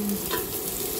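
Onion hitting a hot frying pan with ginger about to follow, giving a steady close sizzle with a light stir of the pan partway through and no voices.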